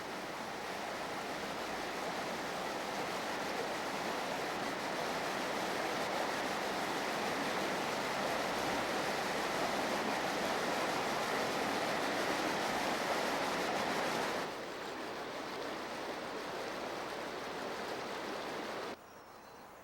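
A river rushes through Box Canyon, a narrow gorge over 100 feet deep and 15 to 30 feet wide at Mount Rainier, giving a steady, loud broadband roar that drops slightly near the end.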